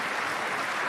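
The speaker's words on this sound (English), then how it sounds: "As you hear the applause build here" Audience applause building, a dense even wash of clapping in a large room, moderately loud and lasting under a second.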